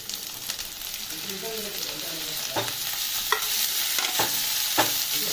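Chopped tomatoes hit a hot pan of fried ginger and garlic, giving a loud steady sizzle with repeated sharp scrapes and knocks of a spoon stirring through them.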